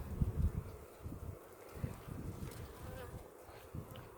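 Honeybees leaving their hive after winter make a faint, steady buzz close by, with soft rustling and a few low bumps mixed in.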